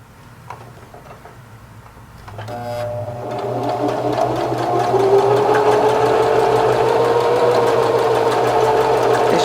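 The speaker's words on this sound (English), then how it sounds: "Just put it back under there and stitch it again. It's just a straight stitch." A sewing machine straight-stitching a lace wig starts after about two seconds and runs steadily, a close, continuous mechanical whir with rapid needle ticking and a rising hum.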